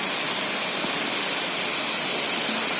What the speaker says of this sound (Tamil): அதுக்கேற்ற மாதிரியே மேலே காற்று நல்லா அடிக்குது பாருங்கள்